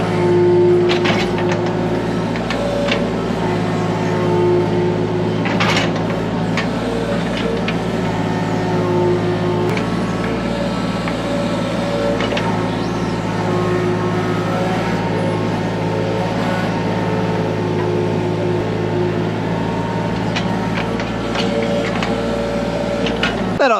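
A vehicle pulls a dump trailer forward across a parking lot. A steady, close engine drone holds throughout, with a few faint clanks and rattles on top.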